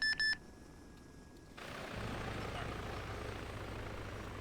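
A helicopter in the video game ArmA 3 spools down: a few short electronic beeps, then a steady, broad rotor and engine drone that holds evenly for the rest.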